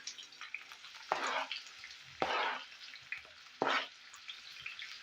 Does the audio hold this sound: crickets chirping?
no